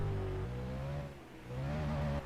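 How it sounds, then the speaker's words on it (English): A V8 league race car at Pukekohe revs while burning its tyres, heard from a distance as a sustained engine drone that briefly dips in pitch and loudness midway, then climbs again before easing off. "Harrison burning up his tyres before he brings it back to the sheds"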